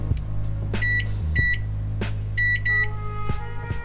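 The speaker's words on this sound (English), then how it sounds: "heat it in the microwave." A microwave oven heating coffee mixed with milk hums steadily while sharp electronic beeps sound in short bursts: a single beep, then paired beeps, close and clear with no talking.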